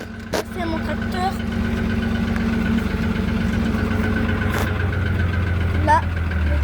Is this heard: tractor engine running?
yes